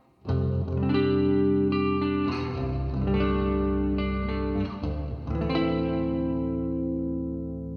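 Clean, warm chords on a 30-inch baritone electric guitar, neck pickup, ring out in a low register with a round, mellow tone, sustaining and decaying between strums, no voice present.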